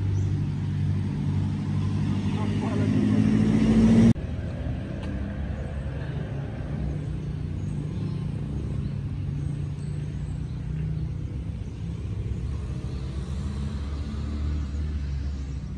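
A car engine revs hard with a loud, steady low rumble, then drops abruptly to a quieter, even idle-like drone that carries on to the end.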